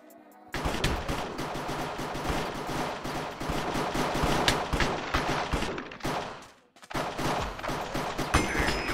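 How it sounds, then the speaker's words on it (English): Rapid gunfire from a Minecraft Hypixel Cops and Crims match, dense bursts of loud synthetic shots rattling almost continuously, broken by a brief pause before firing resumes. "Kill a player with a headshot in a game of Cops and Crims."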